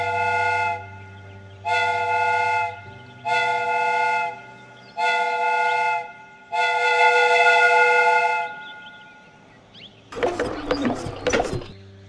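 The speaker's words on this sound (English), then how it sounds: "The steam whistle is ready to be used." A steam train whistle in the Sherlock Holmes Crimes and Punishments video game sounds five loud, sustained tonal blasts with short gaps, the last held longest, followed by clattering mechanical noise.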